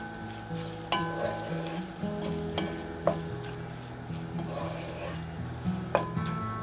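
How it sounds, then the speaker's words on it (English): Onion, bell pepper and flour are stirred together in butter in a pan, giving a soft continuous sizzle under scraping utensil strokes and a few sharp clinks against the pan. "Sprinkle in some all-purpose flour, stir them all together to coat."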